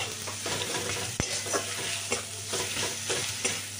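Spiced masala with turmeric, okra and potato fries in a pan with a splash of water. A continuous close sizzle runs throughout, and a spatula scrapes and stirs at a regular rhythm, with one sharp knock early on.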